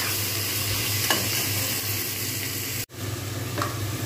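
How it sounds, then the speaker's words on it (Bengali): Marinated meat frying with fried onions in a pan, stirred throughout: a steady, fairly loud sizzle with scraping spoon strokes, a brief break near the end before the frying noise resumes. "ম্যারিনেট করে মাংসটা আমি এর মধ্যে রেখেছিলাম, সেটা আমি এর মধ্যে এটা দিয়ে দেবো। দিয়ে ভালো করে কষাতে থাকবো।"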